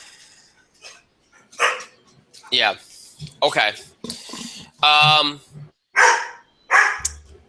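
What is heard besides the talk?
dog barking during the show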